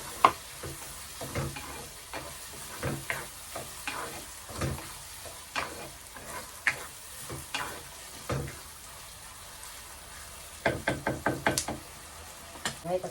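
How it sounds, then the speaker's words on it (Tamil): Two big tomatoes fry and sizzle in a pan as a spoon stirs them, knocking against the metal in a steady rhythm that speeds into a quick burst of taps near the end, all close and with no voices. "2 பெரிய தக்காளியாக சேர்த்துக்கிறேன்."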